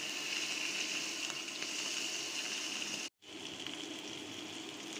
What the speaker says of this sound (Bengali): এখন একটু উল্টিয়ে পাল্টিয়ে লাল লাল করে ভেজে নেব।